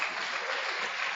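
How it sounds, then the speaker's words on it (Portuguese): A church congregation applauds in a short, dense burst of many hands clapping together, steady and fairly loud, with no voices standing out. "Dê uma salva de palmas para Jesus"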